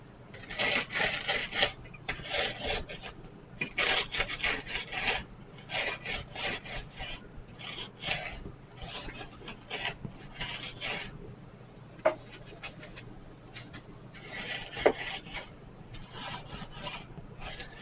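Rolling pin crushing Takis tortilla chips into coarse crumbs, a series of rough crunching, grinding strokes in irregular bursts, close and fairly loud.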